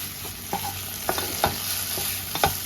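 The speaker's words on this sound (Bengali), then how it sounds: "এবার ভালো করে মিশিয়ে নিলাম" Mashed data shak greens are stirred in a pan with onion and garlic, a spoon scraping and knocking against the pan in a few distinct strokes over a soft, steady sizzle.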